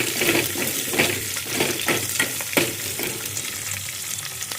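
Curry leaves dropped into hot oil for an Andhra-style okra tamarind curry, crackling and sizzling loudly up close with bursts of spattering that settle into a steady fry.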